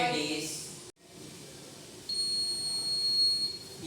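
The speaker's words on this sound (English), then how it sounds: "when a person go from this sensor, the sensor will sense and it will give a buzzer sound" A PIR-sensor theft alarm buzzer on a school project model gives a thin, steady electronic tone that starts partway through and holds, after a brief dropout, over faint background noise.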